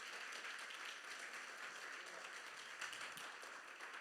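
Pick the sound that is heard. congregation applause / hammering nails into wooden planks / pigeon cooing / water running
congregation applause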